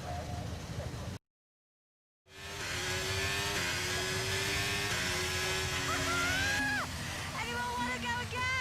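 Formula 1 race cars in a video game pulling away from the starting grid, a loud sustained engine roar with rising whining revs and gear shifts, after a brief silent gap.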